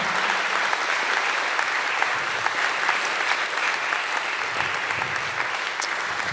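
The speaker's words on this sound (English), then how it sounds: "So let's give them one more round of applause" Sustained applause from an audience at a Q&A panel event, dense steady clapping lasting throughout with no pause, fairly close and even in loudness.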